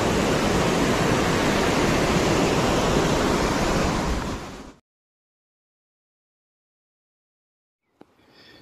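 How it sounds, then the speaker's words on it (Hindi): Waterfall at Tamarind Falls in Henrietta, Mauritius, a loud steady broadband rush of falling water close by for about five seconds, then cutting to near silence with a faint knock near the end. "ये तो सबसे बड़ा ऊपर वाला है वाटरफॉल।"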